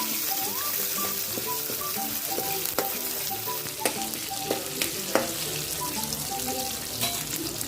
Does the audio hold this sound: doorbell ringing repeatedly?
no